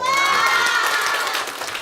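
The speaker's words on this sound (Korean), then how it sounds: "박수!" Students at a girls' high school youth deliberation committee opening cheer and clap, a brief loud burst of crowd noise and shouting that eases slightly near the end.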